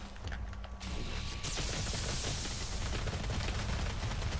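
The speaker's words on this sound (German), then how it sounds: "Ja, hier wird irgendwie geschossen, aber ich sehe keinen." Rapid bursts of gunfire in a Doom multiplayer match on PS4, dense and continuous, loud and close, with a faint tone early on before the shooting thickens.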